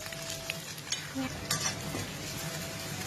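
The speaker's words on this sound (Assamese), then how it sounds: "পিঁয়াজেৰে ভাজি লওঁ" Fish frying with onions in a pan, a steady close sizzle with light stirring scrapes and occasional utensil taps, continuous and even throughout.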